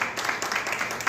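Audience at a Hindi-language research book launch applauding, a short burst of dense, steady clapping from a crowd, fairly loud and continuous throughout.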